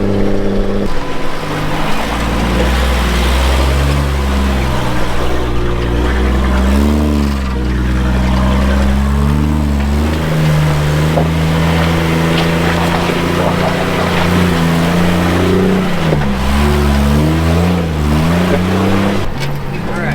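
A custom side-by-side buggy engine droning steadily while driving, close and loud, its pitch rising and falling with throttle changes and gear shifts over the whole stretch.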